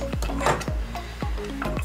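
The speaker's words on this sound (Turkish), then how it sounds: "Göz göz oluncaya kadar çırpıyoruz." A whisk beats a cream, sugar and egg pudding mixture for a strawberry magnolia dessert in a pot on the stove, quick rhythmic strokes scraping and sloshing about five times, close and clear with no talking.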